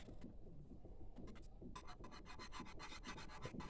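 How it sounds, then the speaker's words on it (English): Cheese being whisked into a thick sauce for bacon mac and cheese, heard as close, steady rubbing and rasping scrapes in a quick repeated rhythm that grow busier toward the end, with no talking. "And just whisk that in there."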